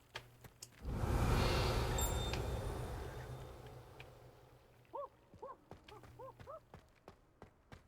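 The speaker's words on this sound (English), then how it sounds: "There's an owl up there." An owl hoots softly in a few short, repeated calls in a Hogwarts Legacy castle courtyard, set against a faint ambient game backdrop with scattered light taps and a brief swell of wind-like noise.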